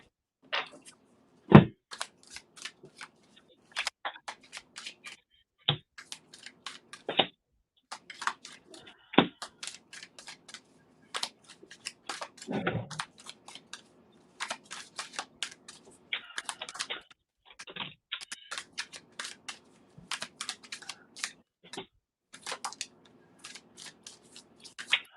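A tarot deck is shuffled in bursts of quick, crisp card clicks and riffles separated by short pauses, close up and fairly faint, over a long stretch.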